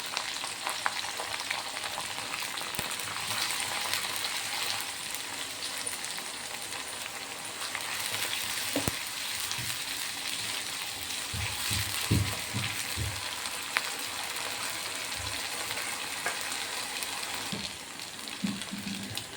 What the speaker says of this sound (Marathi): टमाटर, लसूण जिराची पेस्ट छान शिजू.